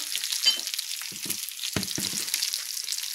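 Brown rice flakes frying in hot oil in a pan give a continuous crackling sizzle with scattered soft scraping and stirring knocks, no talking, moderately loud and close.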